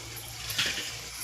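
Water poured into a cooking pan for a simple home-style egg curry, a brief trickling splash that swells near the middle and fades, fairly close and alone.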